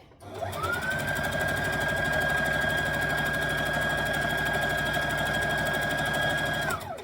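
Sewing machine running at a steady speed while stitching fabric for a dress: a close, continuous whirring motor hum with fine rapid needle clatter. It starts up, holds one even pace and then winds down.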